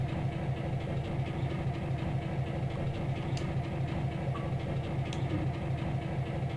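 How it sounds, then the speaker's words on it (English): A train rolls along in the video game Trainz World Tour with a steady engine rumble and rail noise, faint rhythmic clicking, and a couple of brief higher squeals. "let's bring the train to a stop actually"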